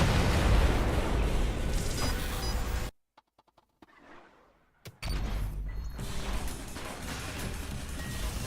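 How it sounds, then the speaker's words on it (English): Loud, dense explosions and heavy bursts fill the ULTRAKILL video game action, breaking off into a near-silent gap with faint clicks before the roaring blasts resume. "Explosion. Boom."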